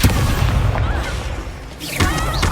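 Confringo fire-blast spell cast in Hogwarts Legacy on PS5: loud, dense burst of booming combat noise filling the whole moment, with a second sharp blast near the end.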